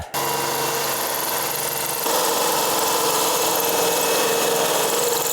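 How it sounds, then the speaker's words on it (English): An old, worn hole saw on a power drill bores through material with a steady, loud grinding whine that holds without pause and grows slightly louder and rougher after the first couple of seconds. "I really hate hole saws, especially old ones like this that are kind of beat up."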